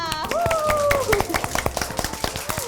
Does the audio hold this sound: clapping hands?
yes